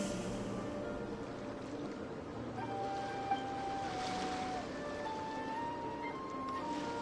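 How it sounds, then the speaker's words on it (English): Ocean waves in the Genshin Impact game world, a steady soft wash of surf with faint tonal music notes drifting over it, continuous and moderately quiet. "Go to where you can hear the sound of the waves."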